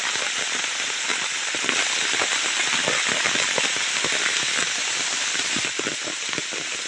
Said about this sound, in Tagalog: Yan, lalong lumakas yung buhos ng ulan.